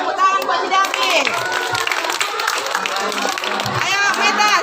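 A classroom group claps for a student named David at a school session on positive culture, a dense, steady wash of hand claps with children's voices and chatter mixed throughout.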